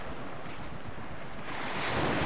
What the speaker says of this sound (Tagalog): At talagang ang tubig ay mataas, high tide na.